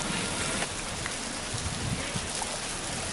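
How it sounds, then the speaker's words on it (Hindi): Steady winter rain falls continuously in Uttar Pradesh, a dense, even hiss of drops pattering on surfaces, close and constant with no voices. "ये देखिए आप कैसे बारिश हुई,"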